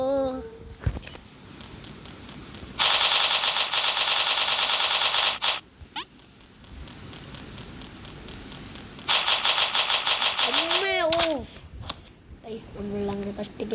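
Automatic gunfire in a video game rattles out in two long, loud bursts of rapid shots, separated by a quieter stretch where someone talks excitedly.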